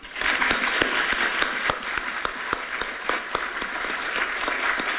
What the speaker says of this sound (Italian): C'è un applauso a lui.